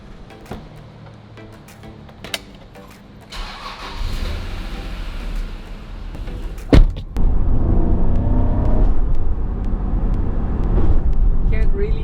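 An Acura NSX with a VTEC engine starts with a sharp burst, then settles into a loud, close idle and revving with strong induction noise, after quieter mechanical knocks and faint voices early on.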